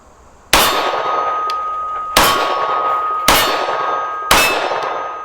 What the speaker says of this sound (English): I'm going to do all of these just at the gong.